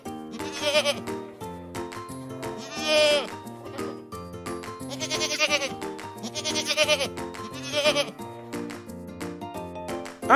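Sheep bleating among farm animals, several wavering bleats at intervals over a steady musical background, fairly quiet and up close.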